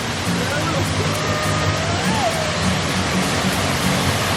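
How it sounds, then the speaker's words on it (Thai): Second tier of a waterfall roaring steadily close by, a dense unbroken wash of falling water with a faint voice underneath. "นี่ก็คือน้ำตกชั้นที่2นะคะ"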